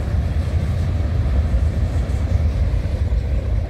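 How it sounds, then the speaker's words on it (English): A long CN northbound manifest freight train rolls past close by, a steady loud rumble and clatter of wheels with no voices. "It's a long train."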